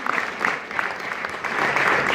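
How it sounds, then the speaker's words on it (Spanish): Church congregation applauding Jesus during a service, a steady wash of many hands clapping at moderate distance, fairly even throughout. "dale ese aplauso a Jesús."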